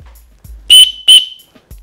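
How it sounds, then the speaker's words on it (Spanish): An emergency whistle on the chest strap of an Osprey Aura 65 AG backpack is blown twice in quick succession, two short, shrill, piercing blasts close by, separated by a brief pause. "se puede encontrar un silbato de emergencia"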